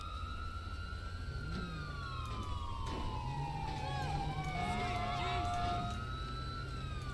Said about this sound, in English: So their sirens aren't gonna be bugging me.